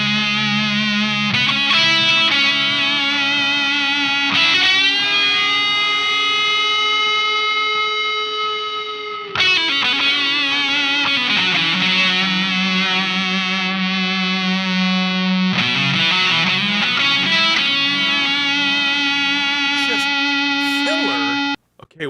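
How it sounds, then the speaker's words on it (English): Electric guitar played through an EarthQuaker Devices Silos delay and a Mohair distortion pedal: gritty, sustained notes and chords ring out with trailing echoes, several phrases separated by short gaps, loud and upfront with no talking. "give it a little bit heavier, grittier distortion, like we'll use my Mohair here"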